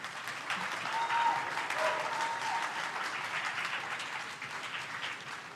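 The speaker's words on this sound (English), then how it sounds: "Please clap for them if they get the answer correct." An audience at a school junior science and maths quiz contest breaks into sustained applause, a dense, even clapping from many people lasting over five seconds without speech.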